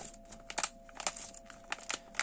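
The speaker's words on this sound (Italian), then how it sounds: "E guardate come si sfoglia bene." Pages of a Topolino comic book are flipped by hand, giving a few quick, soft crinkling rustles close by, quiet and alone without speech.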